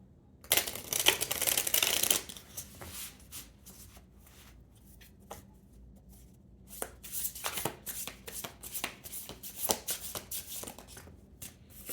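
A deck of tarot cards is shuffled up close: a dense, rustling riffle in the first couple of seconds, then scattered flicks and snaps of cards being cut and handled, with quiet gaps between them.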